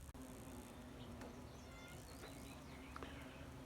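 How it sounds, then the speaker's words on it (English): Carpenter bees buzz around a pasture on a warm morning, a faint, steady insect drone with no speech over it. "There's them carpenter bees buzzing around again."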